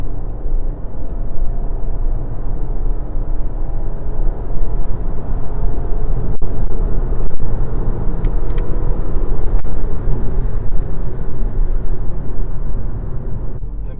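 Volkswagen Passat 1.8 TSI with LPG conversion accelerating in third gear, a loud steady engine drone with road and wind roar heard from inside the car, plus a few faint clicks.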